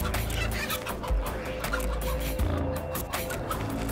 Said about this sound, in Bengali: মা মুরগিটি সাপ এবং বাচ্চাদের মাঝে প্রতিরোধের দেয়াল তৈরি করে